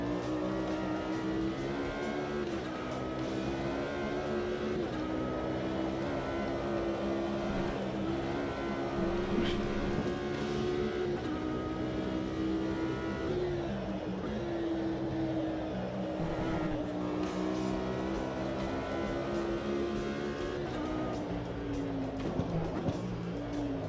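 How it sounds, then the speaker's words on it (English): A race car in the Automobilista 2 (AMS2) sim racing game drives at a steady, loud engine drone with shifting rev pitch, and a few brief pops crackle through as it changes down the gears. "I like that little popping noise as it changes down the gears."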